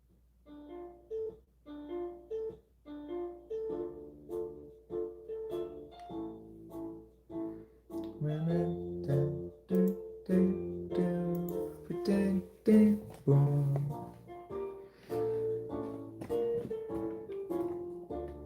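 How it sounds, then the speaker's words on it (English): A self-composed piano piece plays back as a recording, starting with sparse single notes and growing into fuller chords with a steady rhythm, quiet overall with no voices. "I've got this very good piano composition that I've been working on"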